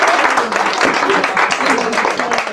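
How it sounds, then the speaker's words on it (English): Audience clapping for a discussion panel at a parenting event, a dense steady wash of many hands that stays loud and even throughout with no breaks. "Can we clap it up for the panel"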